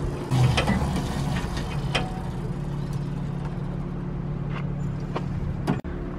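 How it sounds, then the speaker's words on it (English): A motorized hose reel, custom-built for an auto detailing van, winds in pressure washer hose with a steady low mechanical hum and faint rattling clicks, running continuously at close range and cutting off near the end. "Let's show you my motorized, custom built by me and my dad reel."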